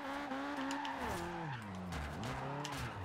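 A Subaru BRZ drift build in Forza Horizon 2 drifts, its engine note rising and falling with shifting revs while tires squeal steadily, loud and continuous.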